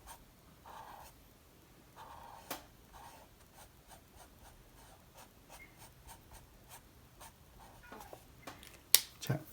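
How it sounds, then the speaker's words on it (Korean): Pink coloring tools stroking over paper to fill in flower petals, a soft rapid scratching with regular light taps, quiet and close, with no talking. "자, 전체를 다 칠해 주시고요"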